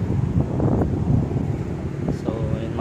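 Seaside wind buffets the microphone with a constant low roar, continuous and fairly loud throughout.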